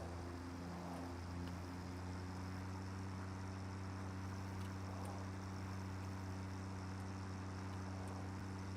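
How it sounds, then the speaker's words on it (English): Steady, droning engine hum of a tractor driving in Satisfactory, a constant low tonal rumble with no talk over it. "Press E to drive the tractor."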